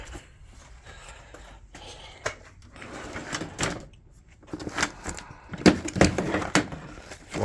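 A drawer in a workshop where car audio amplifiers are kept is pulled open, with scattered sliding clunks and light rattles from rummaging through its contents, fairly quiet and with no talk.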